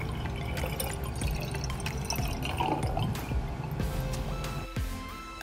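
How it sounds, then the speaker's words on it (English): Water, about 200 milliliters, pours into a lab flask in a steady trickling, gurgling stream, close up and without talk. "Begin by measuring out 200 milliliters of water and pour it into your flask."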